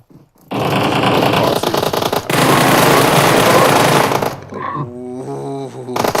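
Rapid automatic gunfire rattles in a competitive video game match, loud dense bursts in two long stretches, followed by shorter tonal game sounds and a brief voice.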